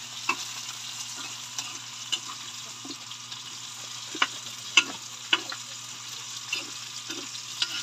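Food sautéing in a pan gives a soft, steady sizzle, broken by scattered sharp clicks and scrapes of stirring at irregular intervals, with no talking.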